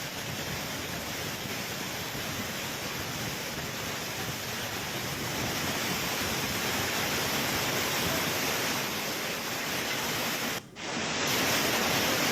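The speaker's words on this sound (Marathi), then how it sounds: "या मार्गावरून इतक्या जोरदार प्रवाहानं, इतक्या जोरदार वेगानं पाणी वाहत होतं" Strong floodwater rushes down the stone pathway to the Pavagadh temple, a steady roaring wash of water that stays loud and unbroken throughout.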